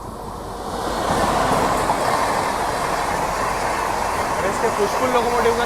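Passenger trains on an Indian Railways line, including a Danapur summer special and back-to-back services, rumble steadily with a continuous rolling roar and faint wheel clatter, loud and close throughout after a brief rise at the start.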